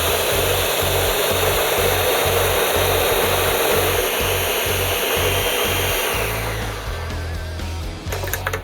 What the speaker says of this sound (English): Now we puree.